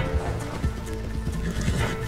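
Horse neighing and galloping in the Red Dead Online video game, a whinny over rhythmic hoofbeat clip-clops and a busy game soundscape, fairly loud and continuous.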